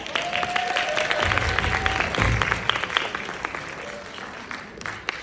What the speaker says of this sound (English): Okay, can we give Candace